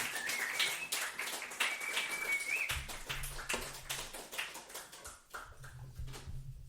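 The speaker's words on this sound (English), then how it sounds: "Please keep the clap going for these guys" An audience at a show claps along in rhythm, a string of sharp, fairly even hand claps at moderate distance, with a dog whimpering and some music-like tones in the background.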